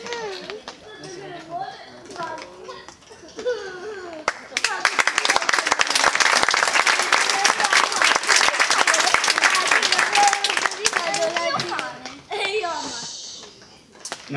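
Street arts festival crowd applauding a girl named Giada after a performance in Tortona, a dense burst of clapping and cheering in the middle, with children's voices and talk before and after.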